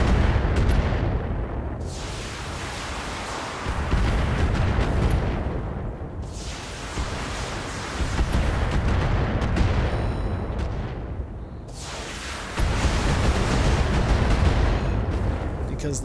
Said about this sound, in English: Engaging jump jets.